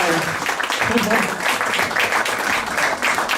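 Audience applause at a sailing awards ceremony in Szczecin, broad steady clapping filling the room for a few seconds with a voice speaking over it.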